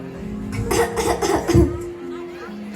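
A woman coughs in a staged Islamic cabaret drama performed by students, a short burst of several rough coughs close to the microphone, with a faint murmur of people in the background.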